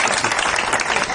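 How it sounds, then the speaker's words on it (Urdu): Audience applause at a comedy show, a short dense burst of clapping from a crowd, close and loud. "تالیاں کیوں بجا رہے ہیں؟"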